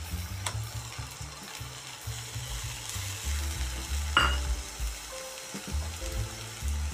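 Onion paste hits hot oil for a Bengali prawn curry, giving a lively sizzle while a spoon stirs and scrapes the pan in repeated low knocks, with one sharper clink midway.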